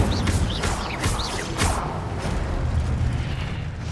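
A fire spell cast in the video game Hogwarts Legacy bursts with a few sharp whooshing booms in the first second and a half, then a dense rumbling roar of combat sounds carries on underneath.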